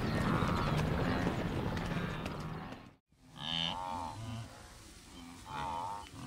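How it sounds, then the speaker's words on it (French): Migrating zebras and antelopes on the Serengeti plains: a dense, rumbling clatter of many hooves fills the first half, then after a sharp break come deep, lowing grunts and calls from the herd. "Tous créent une mer de vie mobile, faisant trembler le sol du bruit de leurs sabots."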